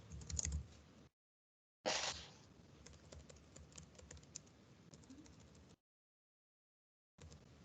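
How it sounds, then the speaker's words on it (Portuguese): Faint keyboard typing comes as a run of soft, rapid key clicks, entering a search word into a site of science games, broken by two stretches of silence. "Eu vou digitar aqui, vou colocar aqui eletricidade."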